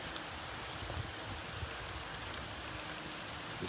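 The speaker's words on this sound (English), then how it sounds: "Hail. It's hailing." Hail pelting down in a quick burst during a convective storm, a dense, steady patter of small impacts all around at close range, with no voices.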